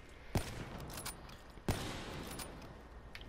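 Gunfire in a PlayStation shooter game: two sharp, loud shots about a second and a half apart over a busy background of scattered distant fire and clicks.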